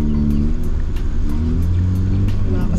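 A 1991 Honda Civic EF sedan running a D12 carb, its engine droning steadily and loudly up close with a low, even hum and only slight changes in pitch.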